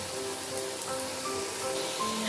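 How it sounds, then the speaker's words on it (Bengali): Cabbage pakoras deep frying in oil over low to medium flame, a steady broadband sizzle and hiss with faint crackles, close and continuous without talk. "সব পকোড়াগুলো পরপর ভেজে নিচ্ছি"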